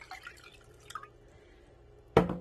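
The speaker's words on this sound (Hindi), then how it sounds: "तो इसके अंदर हमने 1 कप पानी डाल देना है।" A cup of water goes into a bowl during Afghan-style KFC fried chicken prep, landing as a short, sharp splash near the end after a quiet stretch of faint kitchen noise.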